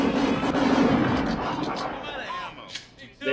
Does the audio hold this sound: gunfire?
yes